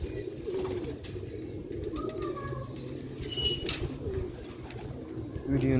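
Pigeons of the Sialkoti breed, kept for sale, give soft low coos against a steady outdoor background, with a brief wing flutter partway through and a faint voice now and then.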